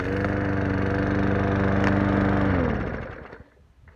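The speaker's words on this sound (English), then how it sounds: "it looks like the lawnmower did a pretty good job on that bag of chips" A lawn mower engine drones steadily up close while running over a bag of chips, then winds down and cuts off near the end; no distinct shredding noise stands out.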